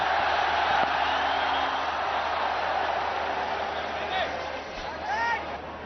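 A stadium crowd roars steadily behind a bowler at an India versus Australia cricket match, a broad continuous swell heard under a commentator's talk.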